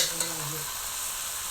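Drumstick greens tipped into a cooking pot and stirred, giving a short close scrape and soft sizzle that fade to a steady hiss.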